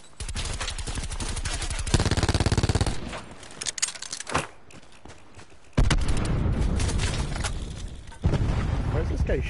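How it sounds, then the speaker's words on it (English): Rapid automatic gunfire bursts loudly from a battle royale shooter, a rattling fusillade with repeated sharp shots, interrupted by pauses and a single heavy report, then more sustained firing. "Where's this guy shooting me from?"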